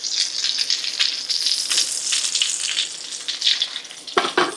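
Salisbury steak sears in a skillet with Wagyu tallow, giving a loud continuous sizzle and crackling spatter, with brief stirring scrapes as the meat is moved around the pan.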